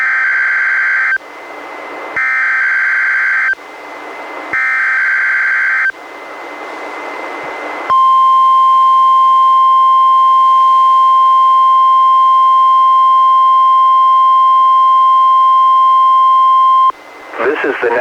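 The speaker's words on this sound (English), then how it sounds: "The proceeding was a test of NOAA Weather Radio's warning alarm." NOAA Weather Radio warning alarm test from the National Weather Service office in Portland, Oregon: three short two-tone beeping bursts with pauses, then a loud, steady single-pitch alarm tone held for about nine seconds before a voice resumes.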